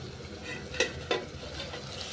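Fish frying in a pan with vegetables for a Bengali fish curry, a steady close sizzle with two sharp stirring clinks partway through, no voices.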